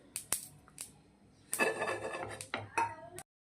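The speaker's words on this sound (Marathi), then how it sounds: "मी काय हे प्लेटमध्ये काढून घेते" Roasted masvadi filling ingredients are scraped out of a pan onto a plate, with sharp metallic clinks and a burst of scraping rattle, close and clear, ending in silence.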